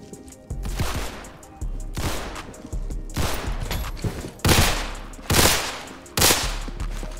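Beretta pistol shots ring out in the Roblox game Criminality, coming in loud sharp bursts of several rapid rounds separated by brief pauses, each burst followed by a fading echo.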